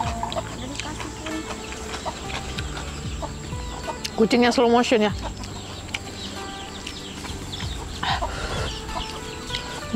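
Chickens cluck and squabble near a cat over scraps of food, a burst of loud squawking rising briefly among scattered clucks, with a person talking now and then.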